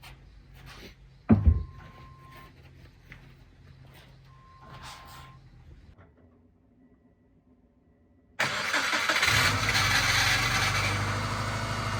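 A worn Subaru with almost 300,000 miles starting up, a few faint clicks and a quiet lull before the engine catches abruptly and settles into a loud, rough, steady running noise.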